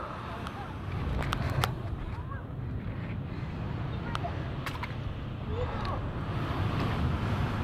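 Ocean waves and wind on the rocks at Gumma, with a steady rushing surf and gusty wind buffeting the microphone, and a few faint clicks and scrapes nearby.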